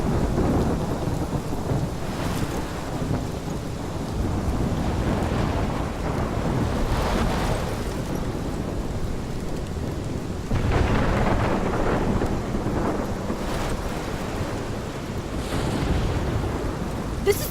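A thunderstorm in the game Life Is Strange: a steady roar of heavy rain and wind, with deep rolling thunder swelling repeatedly across the whole stretch, loud and continuous with no voices.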